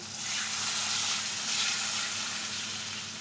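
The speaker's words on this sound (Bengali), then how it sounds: "আলু দিয়ে মশলাটা ভালো করে কষে নিয়েছি এবার জল দিয়ে দিচ্ছি" Water hits a pan of potatoes fried with turmeric and spices, setting off a loud, close, bubbling sizzle that swells in the first second and then settles into a steady frying hiss.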